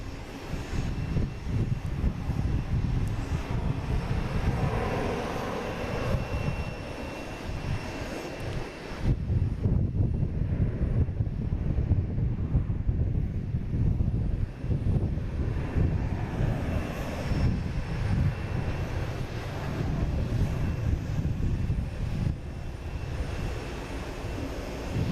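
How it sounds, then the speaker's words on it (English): Twin engines of a Delta Airbus A330-300 airliner bound for Rome produce a steady, loud broadband roar that holds for the full stretch, with a slight dip before swelling again, and no voices. "now we have Delta, flight 112 heading to Rome"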